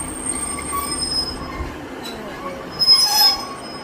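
A train at Doncaster station lets out a high, sustained wheel squeal as it brakes to a stop, loud and close, with a sharper swell of screeching near the end.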